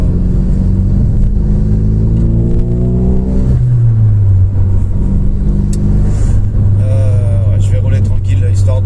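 A van or small truck drives along a road at night, its engine a steady loud rumble with shifting pitch as it accelerates and changes gear, while someone talks over the noise throughout.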